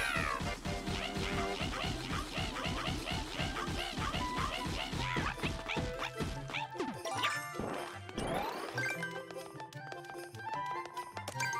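Cat Mario in Super Mario Maker gives meow-like chirps scattered through busy, dense game music and rapid sound effects, the cues blending into the loud, continuous soundtrack for the whole stretch.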